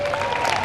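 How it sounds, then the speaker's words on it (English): Brief applause from an audience at a White House speech, a short, fairly steady spatter of clapping with a faint tonal hum underneath. "That's worth an applause."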